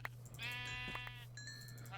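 A single sheep from the video game Minecraft bleats once in a wavering, drawn-out call, faint and alone over a steady low hum, followed by a brief higher tone.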